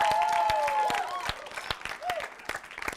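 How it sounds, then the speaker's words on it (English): A studio audience on a game show applauds guest Ralph Bennett with scattered, uneven claps that thin out over three seconds, while a whistle-like tone and voices sound above them. "Let's give a huge round of applause to Ralph Bennett"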